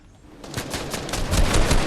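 Rapid automatic gunfire in the video game Fortnite, a dense stream of shots that grows steadily louder over a couple of seconds, with no talk over it.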